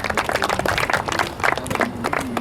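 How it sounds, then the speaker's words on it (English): A crowd at a cricket ceremony claps for the umpires, a dense patter of many hands applauding steadily for a couple of seconds. "so please a round of applause for the umpires"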